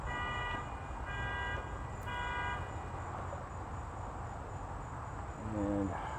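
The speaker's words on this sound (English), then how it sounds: "You hear the crickets chirping." Steady, dense cricket chirping fills a quiet outdoor night in a city park, continuous and fairly soft, with faint tonal beeps briefly rising near the end.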